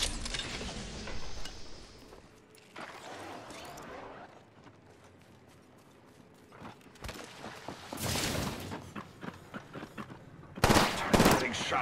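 Gunfire in the battle-royale shooter Apex Legends, bursts of shots and rattling fire at moderate distance, building louder toward the end among game ambience and a voice speaking.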